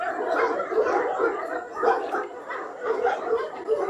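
Several dogs bark in a continuous, overlapping chorus at moderate distance, with yips mixed in and no pauses.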